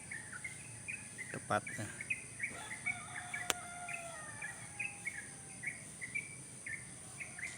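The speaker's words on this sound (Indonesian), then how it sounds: "Nih, burung ada di sini di pohon rambutan, tapi saya tidak tahu adanya di mana posisinya dia." Wild birds sing in a rambutan tree in the morning, giving repeated short chirping phrases at a steady, moderate level, with insects buzzing faintly behind and a brief word of speech.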